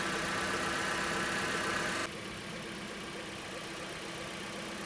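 A 2009 Kia Sportage 4-cylinder engine idles close by with a faint alternator fault, a steady low hum that drops sharply in level partway through and carries on quieter.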